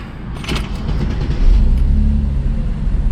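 A Mercedes C32 AMG engine running on E85 fires up for its first start, a low rumbling idle that settles in steadily and fairly close, with no talk over it.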